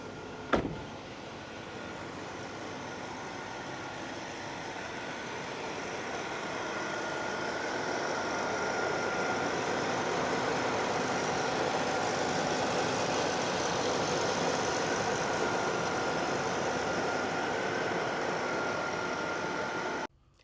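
A GM B-body car's 350 cubic inch 5.7 liter V8 starts with a sharp click and settles into a steady, moderately loud idle for about twenty seconds before cutting off abruptly.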